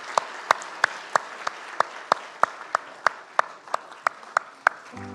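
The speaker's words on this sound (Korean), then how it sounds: "큰 박수로 격려와 축하의 박수 한번 다시 보내드리기 바랍니다" Applause from a church congregation honoring children at a combined worship service, heard as a slow, steady series of about fifteen sharp unison claps, evenly spaced and fairly close.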